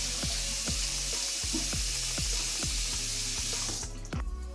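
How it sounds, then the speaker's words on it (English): Hot water running steadily from a tap into a sink while a washcloth is dunked under it for a home facial, a constant close rush with soft rhythmic sloshes that stops abruptly near the end. "And you just dunk it again under the hot water."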